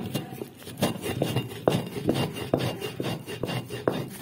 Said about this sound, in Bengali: হজমোলাগুলো একটু সাইডে গুঁড়িয়ে নিচ্ছি।